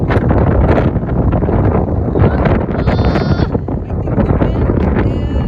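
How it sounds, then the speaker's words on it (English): Strong outdoor wind buffeting the microphone in continuous low rumbling gusts, with a brief whistling tone partway through. "They're flying off in the wind."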